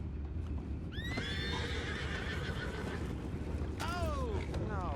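Horses in a western video game give two shrill, wavering whinnies and stamp their hooves in a slow clopping rhythm over a low, constant rumble of ambience.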